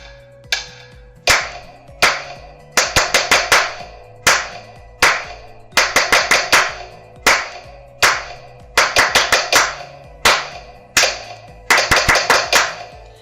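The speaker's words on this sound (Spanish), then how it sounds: "Vamos a utilizar nuestras palmas para acompañarnos." Rhythmic hand clapping keeps a steady pattern as accompaniment in a basic music lesson, crisp close claps grouped in repeating bursts of short quick strikes with brief gaps between them.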